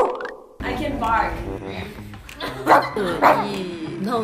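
A K-pop singer imitates a dog barking, giving two short yappy barks amid vocal sounds and music, close and clear.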